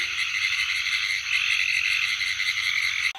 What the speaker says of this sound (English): These are green tree frogs that are calling now.